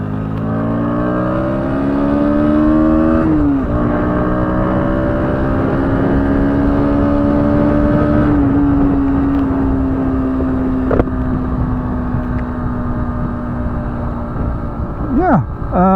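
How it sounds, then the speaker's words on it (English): A 2025 Bajaj Pulsar NS125 with a 125cc single engine on a bumpy road, its droning note rising and falling through gear changes under loud wind noise, with someone talking throughout. "this is a very basic motorcycle, but the engine, of course, it's a 125"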